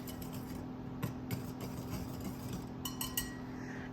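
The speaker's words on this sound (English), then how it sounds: "So I like to just sift things up with a whisk." A whisk stirs and sifts dry muffin ingredients, flour with sugar and three teaspoons of baking powder, in a mixing bowl: soft rubbing scrapes with scattered light clinks of metal against the bowl, close and steady, under a low hum.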